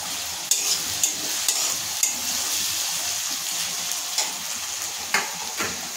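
Softened onion, ginger-garlic paste and slit green chillies fry in a pan with a constant close sizzle, punctuated by about nine sharp spatula taps and scrapes spread unevenly; no talking.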